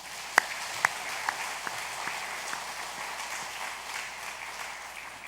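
A church congregation applauds during a Sunday worship service, starting with a few sharp individual claps and building into soft, continuous clapping across the room.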